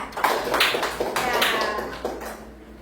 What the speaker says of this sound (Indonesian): tepuk tangan dulu untuk kelompok C